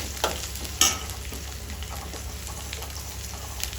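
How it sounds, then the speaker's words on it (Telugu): Ginger garlic paste frying in a pan for stuffed brinjal curry, a steady sizzle with scraping stirs and a couple of sharp clacks of a utensil early on, close and continuous. "నేను అల్లం వెల్లిగడ్డ పేస్ట్ వేస్తున్నాను"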